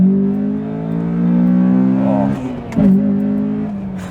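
A Honda Accord family sedan engine revs up under acceleration, its rising growl climbing in pitch before a brief dip at a gear change, then pulling again, loud and close from inside the car.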